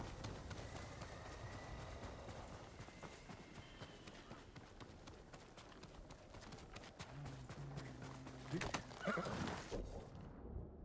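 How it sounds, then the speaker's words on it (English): Horse in the video game Ghost of Tsushima, with steady galloping hoofbeats under game audio and a sharp whinny rising near the end, fairly quiet overall. "Let me get on my horse, actually."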